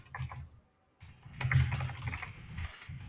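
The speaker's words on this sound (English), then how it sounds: "Here, I'm gonna type something for you." Keys tapped on a laptop keyboard in a quick, close run of clicks. A brief silent pause breaks the typing before a louder, denser flurry resumes.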